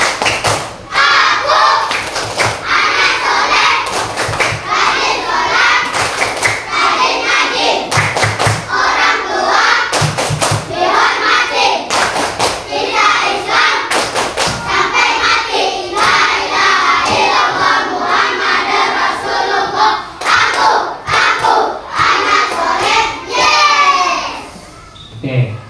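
Schoolchildren in a classroom chant the tepuk anak soleh, an Islamic clapping chant, with loud, steady bursts of hand claps and thumps that keep time under their group voices for about twenty-five seconds.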